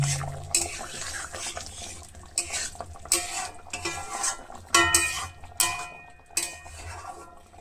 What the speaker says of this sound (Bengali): খুব সামান্য পরিমাণে গরম মশলা এখানে আমরা ছিটিয়ে দেব দিয়ে এটাকে সুন্দর করে মিশিয়ে দেবো